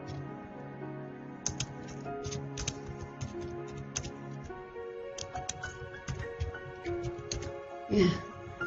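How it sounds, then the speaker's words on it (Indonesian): Typing on a computer keyboard while building a profile app in MIT App Inventor: scattered quick clicking keystrokes in short bursts, fairly close, with soft talking and other faint room sounds in the background. "kita ketikkan kembali"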